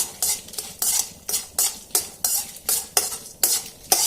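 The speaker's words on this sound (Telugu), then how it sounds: "ఈ పప్పులు కూడా కొంచెం వేగాలన్నమాట" Urad and moong dal frying in a pan for tamarind chutney, a spoon stirring in steady, evenly spaced scraping strokes over a light sizzle, close and clear, with no talk.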